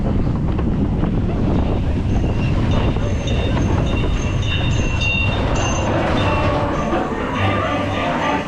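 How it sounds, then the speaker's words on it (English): A Seven Dwarfs Mine Train roller coaster ride at Magic Kingdom, heard on board as a loud, continuous rumble of rolling cars on track with strong wind buffeting throughout and brief faint background voices. "the Seven Dwarfs Mine Train is first up"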